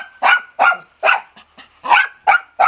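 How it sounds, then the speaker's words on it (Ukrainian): A dog barks repeatedly at close range, about eight sharp barks in an uneven rhythm with short gaps between them, loud and alone without speech. "Ну що ти гавкаєш?"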